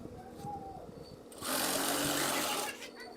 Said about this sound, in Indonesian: Setelah lipat dan jahit saja.